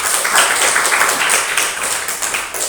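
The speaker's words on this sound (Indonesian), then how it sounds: "tepuk tangan untuk ini" A group of children in a classroom applauding a classmate, a dense, steady patter of many small hands close by that holds for a few seconds without any voices.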